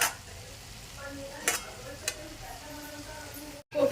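Cabbage sabzi steams and cooks in a pan while a spatula stirs it, a quiet low sizzle broken by a few sharp scrapes and taps, close by and without talk.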